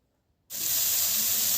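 Potato and cauliflower pieces hitting hot oil in a pan, a sudden loud sizzle that starts after a moment of silence and holds as a steady, bright hiss.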